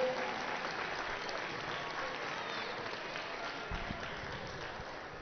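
Steady audience applause for the German team at a TGI 2024 qualification competition, a continuous, even patter of many hands heard somewhat distant across the hall.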